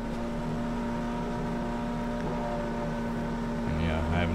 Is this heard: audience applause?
no